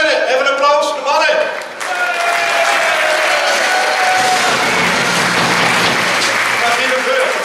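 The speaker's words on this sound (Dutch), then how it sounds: "Even een applaus voor de mannen." An indoor audience claps for the former adjutants called to the front, a dense, loud applause that swells and holds steady after a brief spoken moment at the start.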